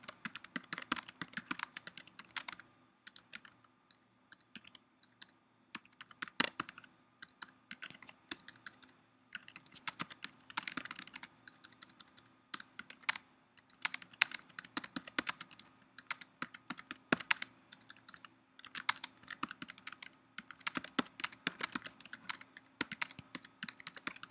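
Someone types on a computer keyboard in steady bursts of quick clicking keystrokes with brief pauses between them. The typing is close and clear, and no one speaks.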